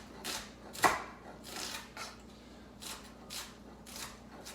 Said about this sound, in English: we'll do is we'll just chop this up however you want to